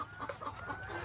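Chickens cluck in short, soft bursts while being fed on a farm, several quick calls close by over a quiet background.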